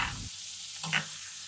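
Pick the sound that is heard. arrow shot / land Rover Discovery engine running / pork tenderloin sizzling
pork tenderloin sizzling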